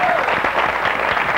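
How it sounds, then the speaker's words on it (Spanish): A television studio audience gives dense applause to neighbourhood choreographers on a 1998 dance-contest program, a short loud burst with a faint voice beneath. "me parece que eso ya merece un aplauso muy,"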